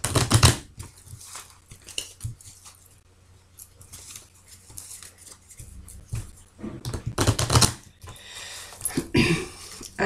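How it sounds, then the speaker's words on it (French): Amethyst Love oracle card deck shuffled by hand, a run of crisp, papery riffles and slaps close by, louder bursts near the start and again toward the end with quieter rustling between, no talk. "ce que je vais faire, c'est que je vais bien mélanger le jeu."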